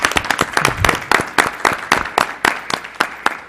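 Applause from a seated audience at a school board meeting, a steady patter of many hands clapping for about three and a half seconds with uneven sharp claps standing out.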